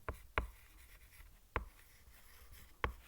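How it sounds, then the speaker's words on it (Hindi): Handwriting while noting a ratio problem from a class 6 math exercise: faint, sparse pen taps and strokes, four sharper ticks spaced irregularly over a quiet background, no talking. "मैं शॉर्ट फॉर्म में लिख लेता हूँ"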